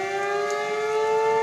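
Tornado civil defense sirens in Merrill, Wisconsin blare with steady sustained tones, two sirens sounding together in a loud continuous wail with no talk.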